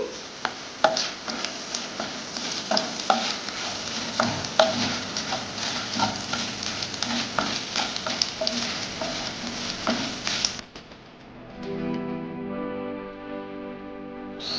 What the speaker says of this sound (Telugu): ఎండుమిర్చి, వేసుకొని బాగా ఫ్రై చేసుకుందామండి.